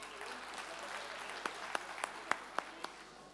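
Audience applause at a Bingöl community night in Tuzla, as a platform president is invited to the podium. The clapping is steady and moderately loud, with a few sharper, louder claps standing out near the end.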